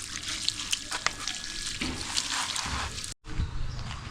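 Water sprayed from a hose over a laterite stone masonry wall, a steady rushing splash with a brief cut near the end, faint talk in the background.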